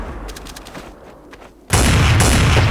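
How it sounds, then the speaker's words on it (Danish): A video-game gunshot erupts suddenly after a quieter stretch, a loud blast followed by a sustained roar of noise. "Og så skyder han ham."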